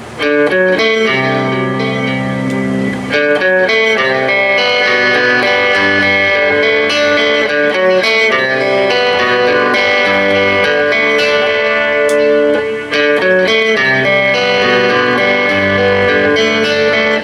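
A swirling, shimmering electric guitar riff from Cream's "Badge" plays loudly and steadily, its chords washed in phaser and chorus with reverb and delay giving a spacious, echoing tail.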